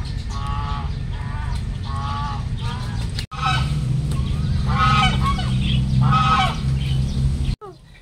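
Ducks at a farm zoo quack in loud, harsh bursts of repeated honking calls, close by, over a steady low rumble of background noise.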